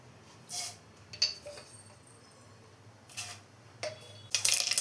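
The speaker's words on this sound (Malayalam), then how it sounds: "ഇപ്പോൾ കടുക് പൊട്ടി വന്നിട്ടുണ്ട്." Mustard seeds pop in hot oil: a handful of sharp, irregular crackles and snaps, spaced apart, with a quiet background between them.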